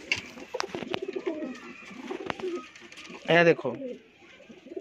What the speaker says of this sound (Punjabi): ਇਹ ਕਬੂਤਰ ਬਹੁਤ ਪਸੰਦ ਆਇਆ ਜੀ ਮੈਨੂੰ